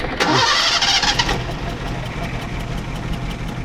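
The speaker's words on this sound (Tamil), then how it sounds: "இப்போ பூட்டிட்டு இன்ஜின் ஸ்டார்ட் பண்ண போயிடும்" An old car in Sri Lanka cranks briefly and catches, then settles into a steady, rough idle close by, with no other sounds.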